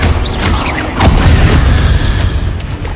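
A Confringo fire spell blasts in Hogwarts Legacy combat, a loud booming burst with crackling debris over dense rumbling game action, close and full.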